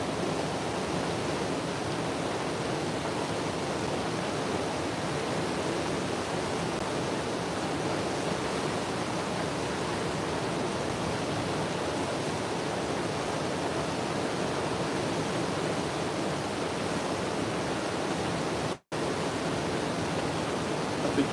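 Strong river current rushing hard just below a dam while catfishing in Kansas, a steady broadband roar of moving water, close and continuous, with one brief dropout near the end and no talk.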